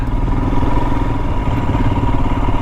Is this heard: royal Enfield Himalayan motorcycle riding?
yes